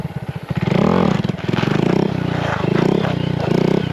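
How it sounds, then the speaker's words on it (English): A 2022 Honda Grom motorcycle with a new exhaust has its clutch dumped, giving a loud, close, throbbing engine note that surges and settles in pulsing waves, with no talking. "I like the sound better when I dump the clutch instead of just puff."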